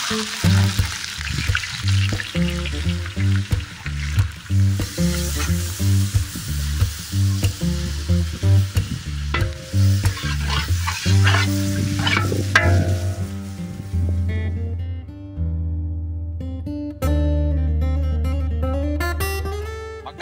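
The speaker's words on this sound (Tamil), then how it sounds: "தொடர்ந்து நம்ம வெட்டி வச்ச வெங்காயத்தை சேர்த்துக்கிறோம்." Chopped onions frying in a pot for beef biryani give a steady, loud sizzle with bursts of stirring and crackling, close by and without speech.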